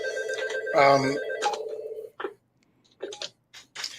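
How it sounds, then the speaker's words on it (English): A telephone rings with a loud burst of tonal rings near the start, then shorter intermittent rings, heard in a room during a live comedy interview. "is that phone, Harry, are you hearing that?"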